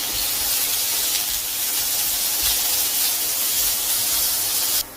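Onion slices hit hot coconut oil in a pan, letting out a loud, steady hiss and spray of sizzling that runs unbroken before cutting off sharply at the end.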